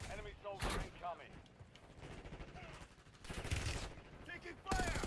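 Rapid gunfire bursts in a war-themed video game, loud, broken bursts recurring throughout amid game effects, with a voice talking over parts of it.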